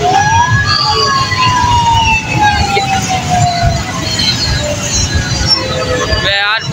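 An ambulance siren wails through busy street traffic during Independence Day, 14 August. Its rising and falling tones carry steadily over the dense road noise.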